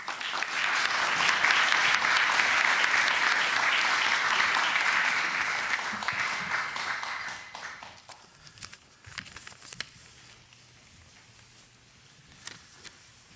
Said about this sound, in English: please join me in welcoming tonight's guests with a warm round of applause